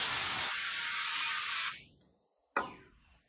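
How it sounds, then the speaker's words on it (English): Olive oil sprayed from a mister onto seasoned chicken pieces on a tray before air frying: a steady close hiss lasting over a second, fading out, then a second short, sharp spray burst. "Now I'm just gonna give them one more light spray with the olive oil."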